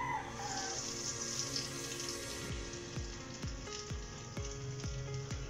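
Tofu balls drop into hot oil in a pan, a bright crackling sizzle that swells and settles, with small sharp pops and drips through a close, steady fry.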